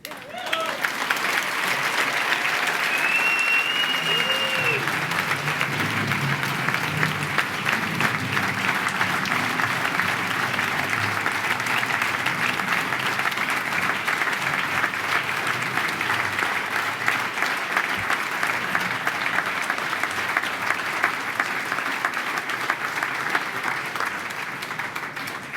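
A gala audience applauds at length, a loud, dense wash of clapping that holds steady for the whole stretch and tapers slightly at the end, with a voice briefly audible near the start.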